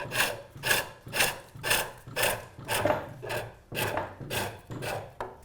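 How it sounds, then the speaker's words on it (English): A square chisel pares wood on a tapered tenon for a captain's chair, making about ten close, rhythmic rasping strokes in steady succession. "using a nice square chisel. It's good because it leaves a reasonably nice finish."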